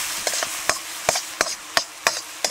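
Goat brain, salted, is mixed and fried in a pan, with a spatula striking and scraping the metal in a steady rhythm of about eight sharp knocks over a soft sizzle, close and loud.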